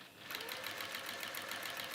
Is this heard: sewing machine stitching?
yes